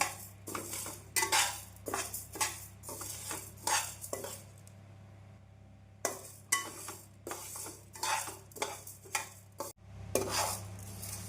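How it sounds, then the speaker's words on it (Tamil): Urad dal dry-roasting in a pan over a medium flame while being stirred, making repeated scraping, rattling strokes with short pauses, with a steady low hum from the stove underneath. "உளுந்து பொன்னிறமாகும் வரை நாம் நன்றாக வறுக்க வேண்டும்"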